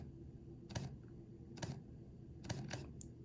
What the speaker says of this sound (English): I shoot and press the shutter,